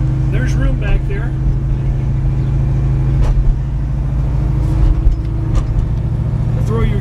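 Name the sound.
1968 Chevrolet Camaro driving on the road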